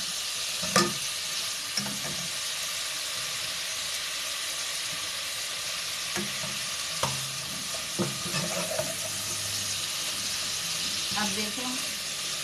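Masala for chicken korma fries in a pan with a continuous sizzle, while a spoon stirs and scrapes at irregular moments.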